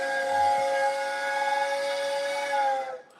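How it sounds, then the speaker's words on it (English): A train whistle blows one long, loud, steady chord-like blast for about three seconds, then cuts off abruptly with a brief hiss, heard on its own. "I think I hear the train."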